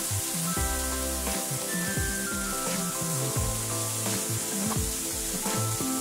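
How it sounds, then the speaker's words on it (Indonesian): Steady hissing sizzle of ground spice paste frying in hot oil, with occasional scraping stirs and clinks, close and continuous throughout. "Kita panaskan sedikit minyak, lalu kita tumis bumbu yang sudah kita haluskan."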